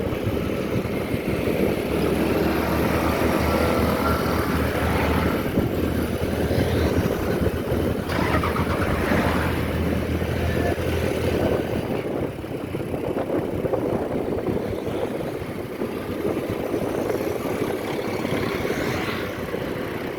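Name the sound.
motorcycle loader truck engine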